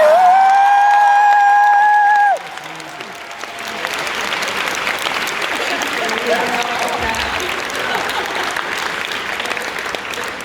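An audience at the MagicCon 2019 Lucifer cast panel bursts into loud, sustained applause after a brief tonal sound. Scattered cheers mix into the clapping, which continues to the end.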